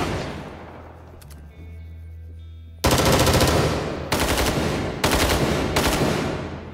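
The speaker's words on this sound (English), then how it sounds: "Machine gun." Machine-gun fire in Rising Storm 2: Vietnam during urban fighting in Hue City. A quieter stretch gives way to three loud, sustained bursts of rapid automatic fire, each about a second long, heard close with no talk over them.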